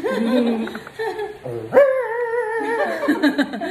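A person playfully imitates a dog barking and howling in a Filipino home kitchen over a snack of ginataang mais, a few drawn-out vocal yelps close to the mic with laughter-like voices.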